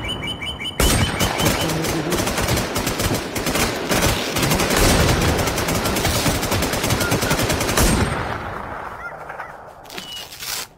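Video game gunfire aimed at Magma: a loud, dense burst of rapid automatic shots rattles on for about seven seconds, then thins and fades away, with faint chirps underneath.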